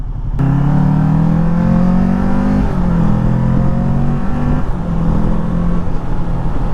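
A 2020 Kawasaki Ninja 650 motorcycle engine drones loudly and steadily while riding, with a slight pitch rise, a brief dip and then a sustained even pull.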